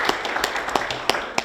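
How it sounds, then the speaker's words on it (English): Sparse applause from a breakfast audience thanking a bank sponsor at a legislative breakfast, several distinct claps scattered over a second and a half, moderately close and fairly light. "Let's give them a round of applause."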